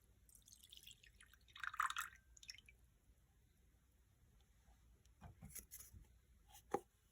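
Juice drips softly into a bowl during a children's practical-life juice activity: a few faint, scattered wet drops and squishes with quiet pauses between them, and no voices.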